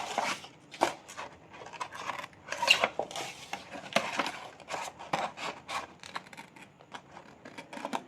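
Scissors cut through fabric for the front of an A-line frock, making a string of close, crisp snips and soft rustles in an irregular rhythm for about eight seconds, with no talking.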